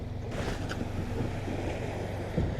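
A fishing boat's outboard motor runs steadily out on the water during autumn bass fishing, a constant low drone mixed with wind buffeting and water wash, no pauses.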